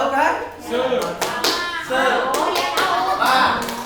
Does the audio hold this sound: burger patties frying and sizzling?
no